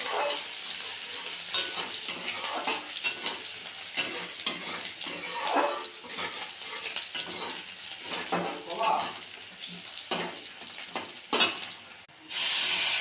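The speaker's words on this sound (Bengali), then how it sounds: "একটা কেটে রাখা পেঁয়াজ, দুটো শুকনো লঙ্কা, একটু সামান্য জিরে দিয়ে ফোড়নটা বানালাম" Chopped onion, two dried red chilies and a pinch of cumin sizzle in hot oil for a tempering, with a continuous close crackle broken by utensil scrapes and clinks, and a louder burst near the end.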